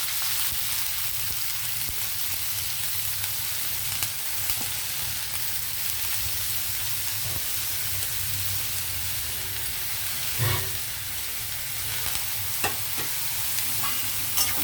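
Onions frying in oil in a pan, a steady, close, continuous sizzle and hiss with occasional stirring scrapes and soft clinks, no talking over it.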